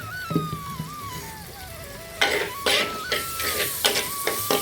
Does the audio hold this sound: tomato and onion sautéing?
yes